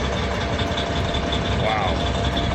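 A huge Big Bud 435 tractor, stuck in the field, keeps its diesel engine running with a steady rumbling drone under a voice talking over it.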